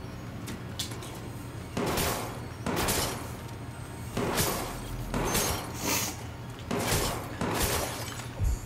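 Bursts of gunfire from the Watch Dogs 2 video game, several sharp crackling volleys at irregular intervals over a steady low game hum.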